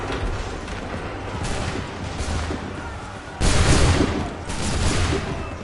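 Musket volley from a line of soldiers in Assassin's Creed 3, a loud broad crackling burst landing mid-clip over a continuous rumbling battle din, with a second swell of fire shortly after.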